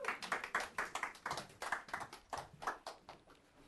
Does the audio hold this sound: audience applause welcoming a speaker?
yes